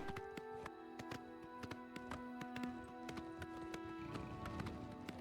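A horse gallops in Elder Scrolls IV: Oblivion, its hooves striking in a steady rhythmic clip-clop over a droning game music bed, continuous and fairly close.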